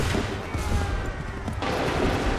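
Massed musket volleys in Assassin's Creed 3 crackle as a dense, loud wall of overlapping shots, with a fresh surge of firing about halfway through amid battlefield noise.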